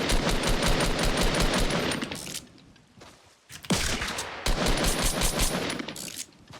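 Rapid bursts of gunfire in Fortnite, loud volleys in two stretches separated by a short quieter gap with a single sharp report, no talking over it.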